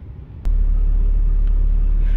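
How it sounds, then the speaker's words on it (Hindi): A 2006 Honda Civic engine cranks and catches with a sharp start, then settles into a steady, loud low idle rumble close by. "तो व्यूवर्स गाड़ी मैंने आपको स्टार्ट करके दिखा दिया, स्टार्ट हो गई है गाड़ी"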